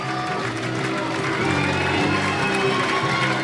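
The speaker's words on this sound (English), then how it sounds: "Massive crowd here today on this wonderful cold and brisk day" A dense, steady crowd roar fills the stands at the 2007 Yorkshire Cup final between Sharlston and Queens, a rugby league match at Featherstone Rovers on a cold, brisk day. The noise swells slightly and stays constant throughout.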